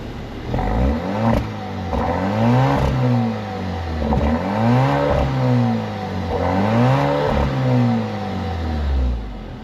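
A 2024 Alfa Romeo Stelvio Veloce Q4 engine blipped repeatedly, with four sharp revs that rise and fall in a regular rhythm, loud and close.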